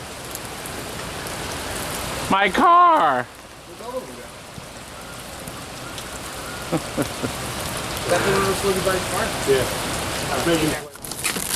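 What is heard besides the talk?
heavy rain falling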